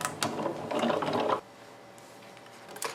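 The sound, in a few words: die-cutting machine cracking as plates pass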